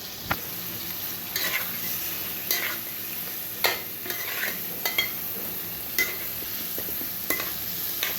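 Poya sea fish frying in a pan of cooked-down spiced masala, a steady close sizzle broken by periodic scraping stirs and light utensil clinks against the pan.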